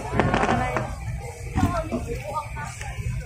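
Fireworks go off at a Uniteam political rally in Arjo, with several sharp bursts and crackles early on and a few more later, heard under crowd noise and nearby chatter.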